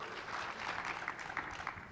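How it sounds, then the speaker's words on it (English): An audience at an in-person tech startup conference claps in a brief, fairly quiet burst of applause lasting about two seconds, the clapping slightly uneven and fading toward the end. "let's get a little extra applause."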